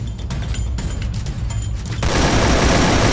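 Rapid bursts of gunfire crackle, then a loud booming blast from an explosive gun takes over, dense and explosive, from the game Free Fire.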